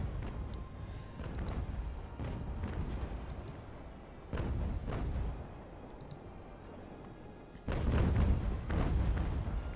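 Sailing ship cannons boom in Ultimate Admiral: Age of Sail, with several separate broadside rumbles, some swelling louder, set against a low naval battle ambience and no speech.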